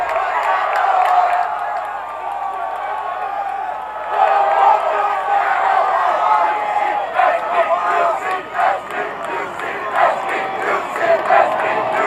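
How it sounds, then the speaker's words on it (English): A big crowd at a collegiate rowing regatta grand final roars and cheers loudly and continuously, with shouts and whoops and a swell of noise partway through, plus some clapping and voices mixed in. "Huge loud crowd."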